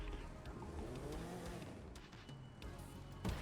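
A rotary-engine car in the racing game The Crew 2 drones steadily with a buzzy, high-revving, lawnmower-like tone, ending with a brief sharp squeal.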